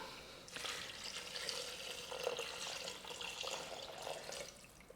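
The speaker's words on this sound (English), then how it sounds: "now we're going to go in with our water" Water poured into a Thermomix bowl over browned onions, a steady rushing splash at close range lasting the whole stretch, with a slight sizzle beneath it.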